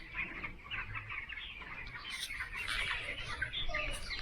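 Chickens cluck and chirp in a dense, continuous chorus, with many birds calling at once at close range and nobody talking.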